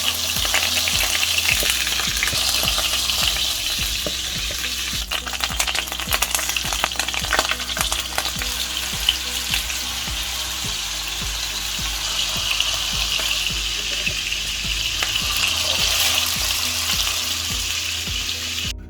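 Meatballs made from halal mixed mince sizzle steadily in a frying pan, a dense, continuous crackle of frying fat with occasional stirring scrapes, close and fairly loud throughout.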